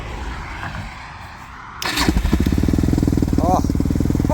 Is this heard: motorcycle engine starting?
yes